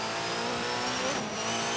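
Race car engine in a racing video game holding a steady high whine as it builds speed, loud and continuous throughout the short stretch with no talking.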